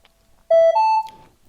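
A single short electronic beep from a Minelab Equinox metal detector's WM08 wireless module, a bright two-tone chirp rising in pitch, sounds once against near silence.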